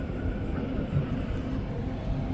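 A short two-wagon REM train rolls along the rails with a steady, continuous low rumble and hum from close by, unbroken throughout with no voices.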